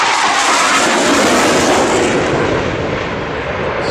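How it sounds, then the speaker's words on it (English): A supersonic multi-role fighter jet roars past at an airshow, a loud, continuous broadband engine rumble that swells and then slowly fades as it recedes. "I hope you really get to enjoy the sound of this aircraft coming past"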